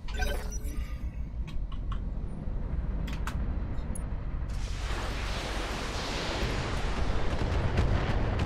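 Heavy mech weapons fire in Battletech, a dense, loud barrage of booming blasts and crackling impacts that swells into a sustained roar in the second half, with no talk over it.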